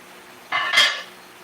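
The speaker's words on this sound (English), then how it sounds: "And we'll give that a good stirring." A spoon is stirred through sauce in a cooking pot for pork chops and apple sauce, giving one brief, close metallic scrape and clatter of about half a second with no talk.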